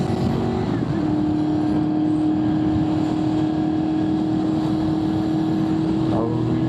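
A Honda VFR800fi motorcycle with a loud exhaust is ridden on the road, its engine a constant, close droning roar that holds steady throughout with no break.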